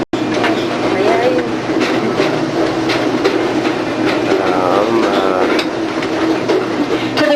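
A zoo tour train rolls steadily along with a continuous rumble and rattling clatter, mixed with a murmur of voices and passing noise throughout.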